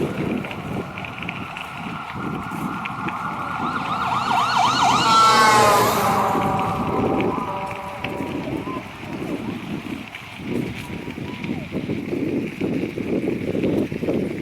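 A mountain rescue siren wails loudly as it passes, rising and sweeping in pitch, over road noise and some talking.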